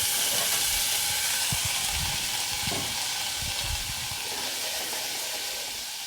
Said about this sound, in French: dès que l'huile est fumante,